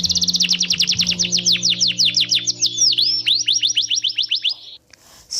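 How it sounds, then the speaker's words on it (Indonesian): A single bird sings a rapid series of bright, repeated chirps and trills, loud and close, over a faint low hum. "seperti kicauan burung,"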